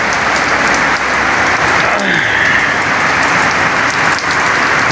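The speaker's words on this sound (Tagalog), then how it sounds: "Umuulan na naman." Heavy rain pours steadily, loud and close, a dense unbroken hiss drumming on surfaces outdoors beside a Toyota Rush under repair, with faint knocks underneath and no talk.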